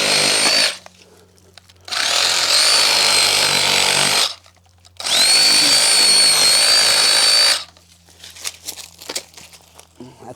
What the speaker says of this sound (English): got to get in here with our saw. Do a little root pruning